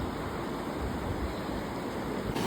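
A river's water rushes in a steady, dense broadband roar, loud and close throughout with no voices heard.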